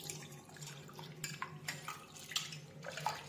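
Mixed lentils are washed by hand in water in a pot, with quiet, irregular sloshing and light knocks against the pot's side; no one talks.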